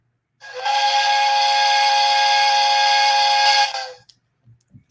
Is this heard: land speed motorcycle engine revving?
no